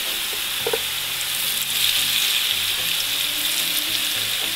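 Potatoes fry in a pan with a steady, close sizzle. Occasional scraping and stirring sounds cut through the hiss, and no one speaks.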